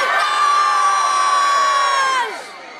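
A concert crowd at a city festival in Vaslui yells together in one loud, sustained cheer that fades out after about two seconds.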